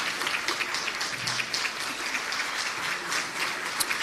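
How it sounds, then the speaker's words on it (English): A conference audience at a competition law, economics and policy event gives sustained applause, with steady, dense clapping filling the room throughout. "a round of applause and a standing ovation is most due"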